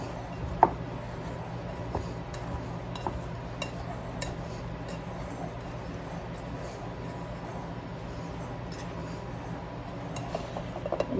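Wire pastry blender working ingredients for a chicken, potato, chile and bacon pie in a bowl, with repeated scraping and chopping strokes, occasional metallic clinks against the bowl, close and fairly quiet.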